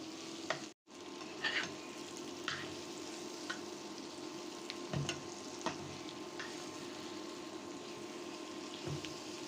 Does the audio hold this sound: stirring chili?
yes